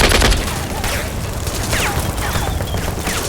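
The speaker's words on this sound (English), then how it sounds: "the tanks would start using the machine gun and taking that tree line under fire" Tank machine gun fire roars in a dense, sustained barrage, loud and steady with rough booming texture and no pauses.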